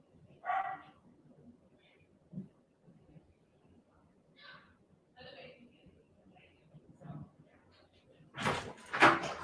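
A dog barks excitedly in short bursts at a balloon being thrown up by kids indoors, with scattered household knocks between, ending in a loud close burst.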